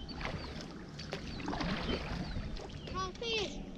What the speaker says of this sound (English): Fixing to launch the canoe right there.